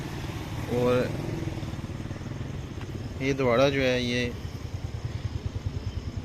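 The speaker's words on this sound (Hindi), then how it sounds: "ये आप बाइक्स वगैरह देख रहे हैं" Motorcycles cross the bridge at Dwara in Jalalpur Jattan, Gujrat, around midnight while floodwater runs alongside, a low engine rumble pulsing under someone talking close by.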